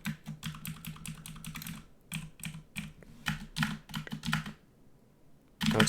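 Rapid bursts of keystrokes on a mechanical switch-type keyboard, sharp and clacky, come in uneven clusters with short pauses. The typing is close and fairly quiet.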